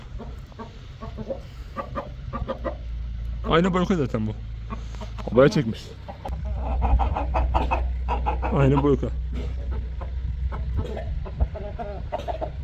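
Indian game (Asil) roosters and hens brought down from the highland pasture cluck and call near at hand, with someone talking over and between the calls against a steady background hum.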